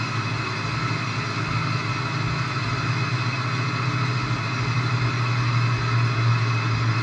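Twin engines and propellers of a Heinkel He-177 bomber at cruise power in a flight simulator, a steady, even low drone with a throbbing hum, constant and unbroken throughout, with no voices.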